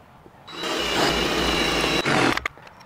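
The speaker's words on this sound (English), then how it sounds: "I'm piloting a hole" A power drill bores a pilot hole to mount a Pelican case on a motorcycle: a loud, close, sustained grinding whir lasting about two seconds, with a brief dip before it stops abruptly.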